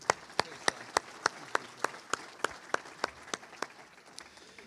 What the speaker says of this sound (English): I'd like to give Jake a round of applause for everything he does